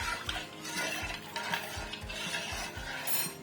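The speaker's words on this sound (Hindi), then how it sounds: "3 से 4 खाने के चम्मच आपने इसमें सिरके के शामिल करने हैं। अच्छे से मिक्स करें।" Tripe being stirred in a pot of vinegar, turmeric and salt water, with steady scraping and sloshing strokes repeating rhythmically, close and fairly loud, with no talking.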